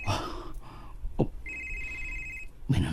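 A telephone rings with a single sustained electronic trill lasting about a second. It stands between bursts of other sounds and is moderately loud against a quiet background.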